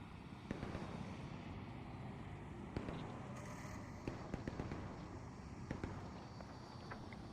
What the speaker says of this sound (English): Is that you shooting, Mantis?